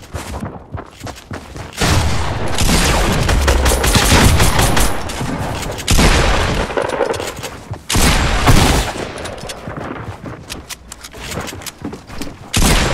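Rapid bursts of gunfire from a battle royale video game crackle in repeated volleys, loud and close, with short pauses between the strings of shots.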